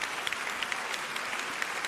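Audience applause at an awards event fills the space with a dense, steady wash of many hands clapping at an even, sustained level.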